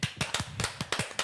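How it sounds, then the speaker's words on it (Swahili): A few people give the podcast hosts a short burst of applause: about eight quick, close hand claps in a loose, rapid rhythm. "So makofi kwenu."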